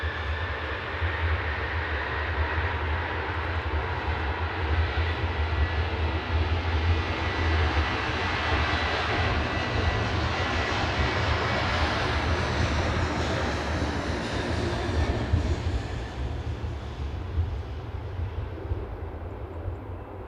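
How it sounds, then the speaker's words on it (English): An IndiGo Boeing 787-9 Dreamliner jet at Manchester Airport, in snowy weather, produces a steady, broad engine roar that holds at a constant moderate level throughout, heard from a distance with no talk over it. "now we've got a Dreamliner. This is an Indigo 7879 Dreamliner."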